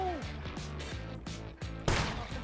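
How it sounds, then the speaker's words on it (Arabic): Gunfire in the survival game SCUM, a quick rhythmic series of sharp shots ending in a louder crash, heard over game music and a speaking voice. "فجاه صوت اطلاق نار"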